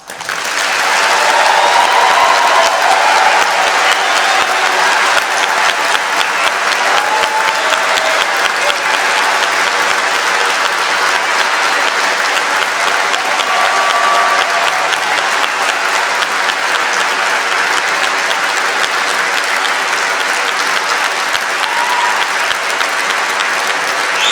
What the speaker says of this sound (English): giving all of our amazing graduates a huge round of applause